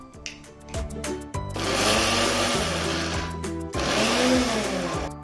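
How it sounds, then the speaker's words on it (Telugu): A mixer grinder churns amla pickle with green chillies in quick on-off pulses, then two longer loud whirring runs with a brief stop between them. "ఈ ఉసిరి తొక్కుని ఈ పచ్చిమిర్చిలో వేసుకొని గ్రైండ్ చేసుకుందాం"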